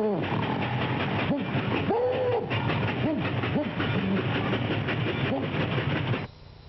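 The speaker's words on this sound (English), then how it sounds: "Oh no, the train is moving." Steady rumbling train noise with rhythmic rattling and a few rising and falling whistle-like hoots, loud and continuous until it drops away at the end.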